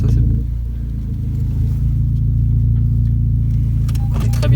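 A Renault Clio 4 RS Cup engine idles at about 1500 rpm with a steady, low, even rumble heard from inside the car, with a faint clicking near the end.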